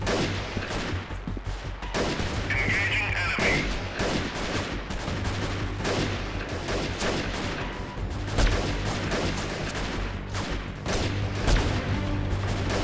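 Rapid rifle gunfire in a guerrilla warfare shooter video game, loud dense bursts of repeated shots continuing throughout over a low rumbling battle background.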